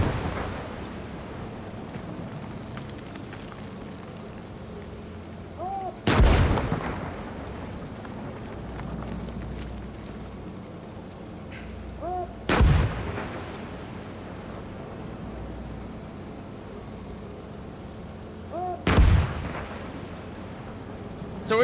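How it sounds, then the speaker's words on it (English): Three heavy booms of a video-game tank firing HEAT rounds, evenly spaced about six seconds apart, each a deep, loud blast that quickly decays over a steady low engine rumble. "We're gonna need to fire off like 3 or 4 heat rounds."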